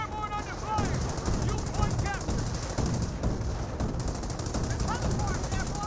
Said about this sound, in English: Airborne squad's firing away.